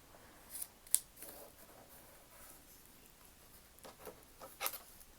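Scissors trimming quilt fabric pieces, a few quiet, separate snips and soft rustles of cloth spread across a calm stretch.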